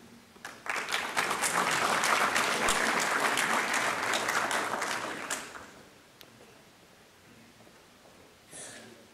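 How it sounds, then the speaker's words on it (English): Audience applause following a military academy professorial inaugural lecture, a dense burst of clapping that holds steady for several seconds, then fades out, with a brief faint flurry near the end. "Let us give him another round of applause, please."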